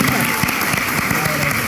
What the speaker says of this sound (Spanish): Un aplauso para Hermes Croato.